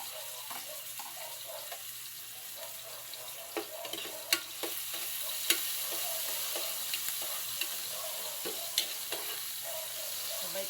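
Garlic and tomatoes sizzle steadily in a hot pan, a continuous frying hiss broken by a few sharp clicks and scrapes of a utensil stirring, close and moderately loud with no talking.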